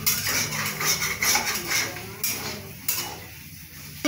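Grated potato halwa roasted in a pan over a low flame, with a spoon scraping and clinking against the metal in uneven strokes over a faint sizzle, close up.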